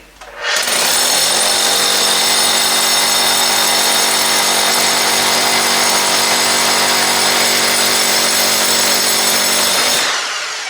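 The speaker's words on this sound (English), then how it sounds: "one of those brand new type of drill bits for drilling through cement or through concrete" A power drill fitted with a concrete drill bit whines loudly and continuously for about ten seconds, spinning up sharply at the start and winding down at the end.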